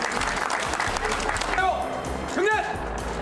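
A large crowd claps continuously at a political event, with overlapping voices and a few shouts breaking through the dense, even applause.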